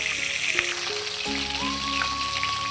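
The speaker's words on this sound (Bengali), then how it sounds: "ইলিশ মাছের মাথাটা একটু লাল লাল করে ভালো করে ভেজে নেবেন" Hilsa fish heads crackle as they brown in a pan of oil, a continuous hissing sizzle at close range with soft background music playing over it.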